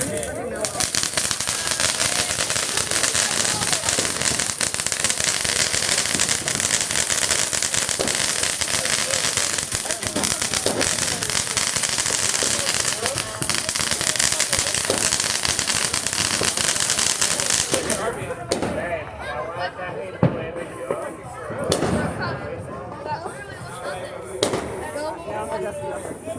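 Neighborhood fireworks going off on the Fourth of July, a dense, continuous barrage of crackling bursts and booms that stays loud for most of the stretch before thinning into scattered, more distant pops, with voices talking faintly underneath.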